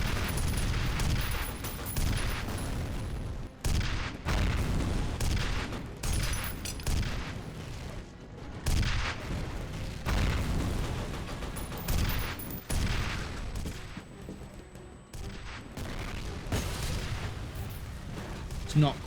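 Rapid weapon fire from a rocket rifle in the shooter F.E.A.R. Perseus Mandate, loud bursts of booming shots in dense volleys with brief gaps, mixed with blasts and game action throughout.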